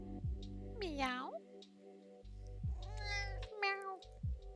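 A cat meows three times, drawn-out and fairly close, over a steady low hum, with short pauses between the calls.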